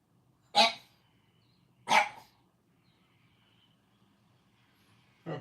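A dog barks three times, loud and close, with single sharp woofs spaced more than a second apart against a quiet room background, with no speech.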